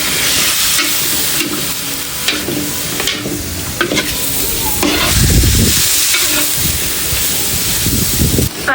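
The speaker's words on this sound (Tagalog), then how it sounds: "Akin pong hahaluin ito pong karne" Meat for chicken adobo is stirred in a hot pan with a loud, continuous sizzle and hiss, while scraping and tossing noises rise and fall in bursts throughout. Faint talk may sit underneath.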